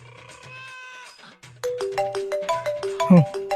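A mobile phone ringtone plays close by, a steady tone followed by a bright repeating melody of quick electronic notes.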